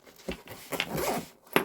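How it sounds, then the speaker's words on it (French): Zipper on a small scrapbooking storage case being pulled open in a few short, quick rasping strokes, close and fairly quiet, with brief pauses between pulls. "Donc, vous avez la fermeture éclair."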